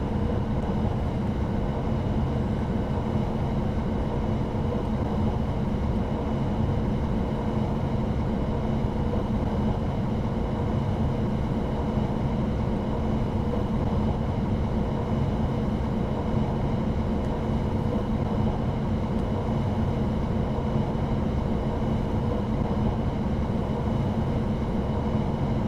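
German train in the driving simulator Train Sim World 2 on PS5, heard as a continuous, even low rumble and drone of the running train from the cab, steady throughout with no talk.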